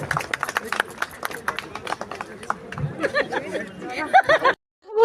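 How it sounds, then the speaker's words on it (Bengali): An audience at a public blood donation and tree-giving event in West Bengal claps in scattered bursts amid chatter and laughter, with people talking over it. "একটু জোরে হাততালি হোক, একটু জোরে করতালি হোক।"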